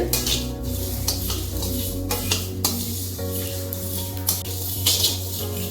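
Dry spices roasting in a pan for homemade kulambu chilli powder, stirred with steady scraping strokes and a faint sizzle, close and continuous, with a low hum beneath and no voices.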